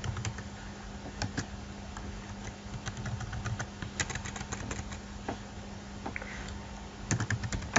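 Keys clatter steadily on a computer keyboard as Node.js server code is typed, a dense run of light clicks with occasional louder taps, close and alone over a low steady hum.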